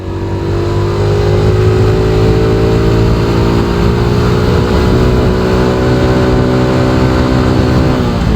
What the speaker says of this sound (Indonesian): Yuk gigi 2 nanjak.